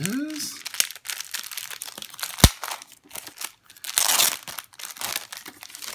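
Paper packaging crinkles and crunches in bursts while a product bundle is unboxed, close and intermittent, with a sharp snap in the middle and a longer rustle near the end.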